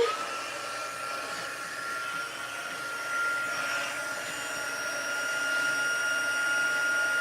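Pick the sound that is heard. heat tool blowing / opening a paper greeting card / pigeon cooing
heat tool blowing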